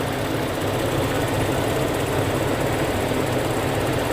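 A Toyota Kijang Krista with a 1.8 EFI engine idles after warming up, a steady close low rumble with an even mechanical drone and no voices.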